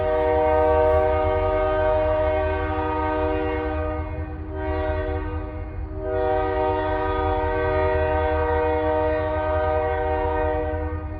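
DeQueen and Eastern GP40-2 diesel locomotives running light at close range, a loud sustained multi-tone horn sounding over the engine rumble, with a short break in the horn midway before it resumes.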